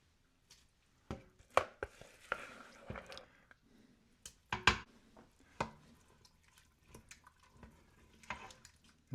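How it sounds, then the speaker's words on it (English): A potato masher presses cooked red beans in a pot, a sequence of irregular soft thuds and wet squishes, close and quiet with pauses between strokes, no talking. "I have a potato masher, and I'm just going to mash up these a little bit."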